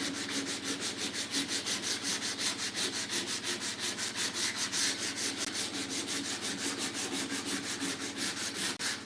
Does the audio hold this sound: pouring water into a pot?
no